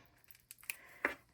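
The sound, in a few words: scissors cutting to start opening a notebook's wrapping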